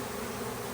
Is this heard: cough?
no